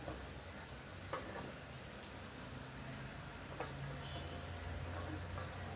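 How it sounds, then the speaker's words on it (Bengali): Chopped bottle gourd sautéing in a pan with a soft, steady sizzle and crackle. It is quiet and continuous, with occasional faint clinks of stirring. "এখন লাউটা অ্যাড করে দিচ্ছি। দিয়ে আর একটু কষাবো ভালো করে"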